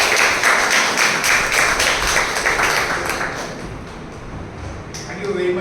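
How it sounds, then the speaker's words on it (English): Audience applause at a Toastmasters club meeting, loud rhythmic clapping that fades toward the middle and picks up again near the end, with a few sharp taps. "please welcome him with a huge round of applause, Toastmaster Dipanshu."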